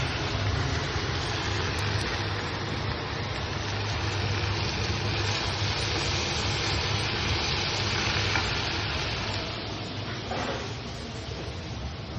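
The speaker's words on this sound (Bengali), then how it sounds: "ভালো করে সবটা একসঙ্গে কষিয়ে নেব।" Food sautéing and frying in a pan during home dinner preparation with mutton, rice and sesame nearby, a steady dense sizzle with faint stirring, continuous and close with no talking.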